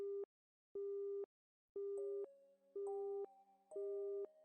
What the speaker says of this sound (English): Is it a dial tone now?